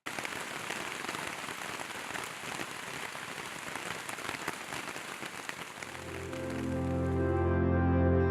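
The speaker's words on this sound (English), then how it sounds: "It rained all night long, gusty wind all night long." Steady rain pattering on a tent through a gusty summer night in Shenandoah National Park, Virginia, a dense close hiss of drops that gives way to a louder low rumble at the end.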